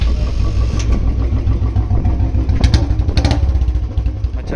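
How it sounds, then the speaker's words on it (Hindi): A Royal Enfield Bullet 350 (BS4) with a free flow L-bend exhaust idling nearby, giving a loud, steady, low thumping engine rumble with slight irregular pops. "अच्छा खासा लाउड हो गया भाई। फ्री फ्लो आने के बाद पूरा कंप्लीट फ्री फ्लो हो गया"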